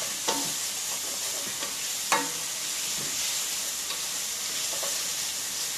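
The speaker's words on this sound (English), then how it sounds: "I'm going to stir it around." Shrimp and fresh ginger sizzle in a pan for a shrimp and rice noodle stir fry as a utensil stirs them, a steady frying hiss broken by a few sharp scraping clicks.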